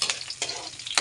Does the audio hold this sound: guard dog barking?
no